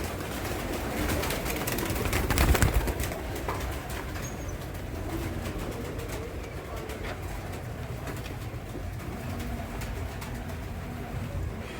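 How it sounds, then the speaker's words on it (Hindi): Pigeons coo faintly outdoors under a steady wash of background noise, with a brief louder thump early on. "इसमें भी काफ़ी कबूतर हैं"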